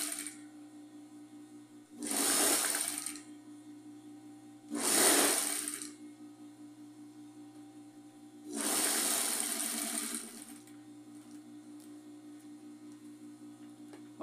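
A sewing machine stitches fabric strips for a rag rug in three separate runs of whirring and rattling, each lasting one to two seconds, close and loud, with a quiet hum in the pauses.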